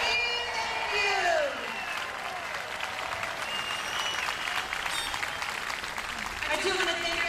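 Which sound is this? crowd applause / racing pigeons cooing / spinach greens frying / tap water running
crowd applause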